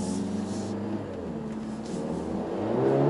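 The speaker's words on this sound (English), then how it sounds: "that sound, especially in the race mode, when you let go the acceleration pedal, you can hear that AMG" Mercedes A45 S AMG hatchback in race mode, engine a low steady hum with faint crackles and a slight rise at the end, heard quietly from inside the car.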